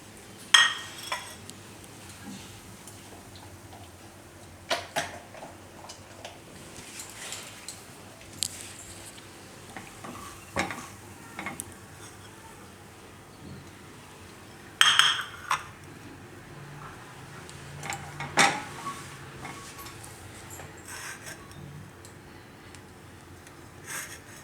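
Corn upma being served from a pan onto a plate: scattered clinks and scrapes of a metal spoon against cookware, sparse and fairly faint with quiet pauses between.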